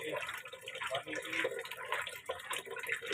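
Tap water runs and splashes into a container for hand-washing a 4.2 kg load of laundry in Tondo, Manila, a steady, fairly close gurgling stream with small drips and splashes throughout.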